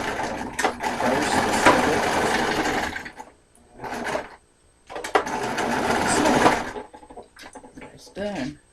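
A sewing machine stitches Ankara fabric for a bow in two sustained bursts of rapid whirring, close and clear. Brief pauses and handling noises fall between the runs, and a voice talks at points.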